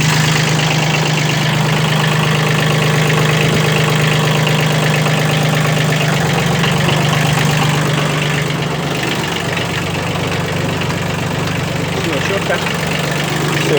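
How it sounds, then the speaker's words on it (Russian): A Kubota B1502 Japanese mini tractor, roughly 15 horsepower, runs with its rotary tiller, giving a loud steady engine drone close by with a constant rumble and little change throughout. "Так работает фреза."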